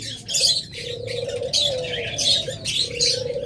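Caged pet lovebirds, budgerigars and Java sparrows chirp in repeated bright bursts, with a low cooing-like undertone running beneath, fairly close and continuous.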